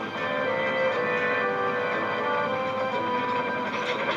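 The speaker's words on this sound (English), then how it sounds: "His wheels clattered and his pistons pumped." A cartoon steam locomotive rushes along the track with a steady, dense clatter of wheels and pumping rhythm, loud and continuous throughout with no talking.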